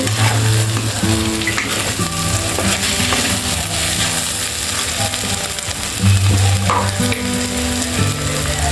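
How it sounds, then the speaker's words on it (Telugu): Ladies finger (okra) fries steadily in hot oil for an Andhra-style coconut fry, a loud continuous sizzle with occasional scraping and stirring clinks of a utensil against the pan. "చూసారా, ఆయిల్ పైకి తేలుతుంది కదా, ఇలా వస్తే ఫ్రై అయిపోయినట్టే."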